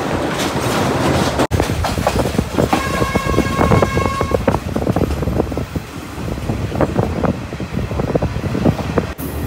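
A Colombo to Kandy train stands at an old British-era station, giving a loud, continuous rumble and clatter of railway cars, with a brief tonal whine partway through and no talking.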